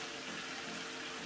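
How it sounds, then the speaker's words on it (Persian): Steady broadband rush of two or three tablespoons of water pouring into a pan of chicken for Persian tahchin, continuous and fairly close, with no voices. "اندازه تقریبا دو سه تا قاشق غذاخوری آب اضافه میکنید"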